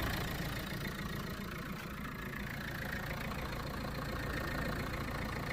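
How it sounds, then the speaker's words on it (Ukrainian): A Renault Megane engine idles steadily with a low, even rumble and faint ticking, running continuously without revving and with no voices. "Так двигун працює адекватно."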